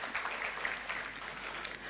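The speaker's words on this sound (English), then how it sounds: "Another round of applause for her." Applause for a keynote speaker at a renewable energy conference and expo, a soft, even wash of many hands clapping, held steady and somewhat distant for the whole moment.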